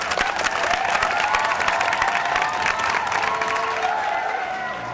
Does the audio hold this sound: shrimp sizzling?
no